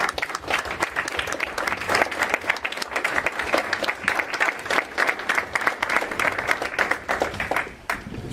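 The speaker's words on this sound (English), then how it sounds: "Let's give them a round of applause." Sustained, dense applause from a room of people at a town hall meeting held in a VFW hall in San Angelo, honoring veterans; steady, close and loud throughout, with no talking over it.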